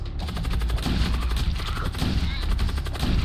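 Ship weapons fire in the space combat video game Void War, a dense, continuous barrage of rapid gunfire with no breaks, loud and close throughout.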